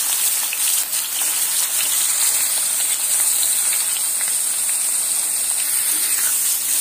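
Eggplant pieces frying in hot oil give a steady, loud, close sizzle with a dense crackling hiss that holds throughout, and no one speaks.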